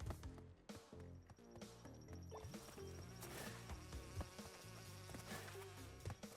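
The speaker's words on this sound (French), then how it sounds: "Oh, les abeilles à me mettre la pression!" Bees buzz in the video game Crash Bandicoot 2, a steady insect drone running throughout under busy game music and effects, fairly loud and continuous.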